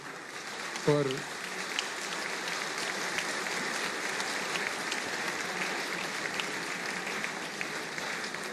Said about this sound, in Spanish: Démosle un aplauso en este momento al señor Pimiento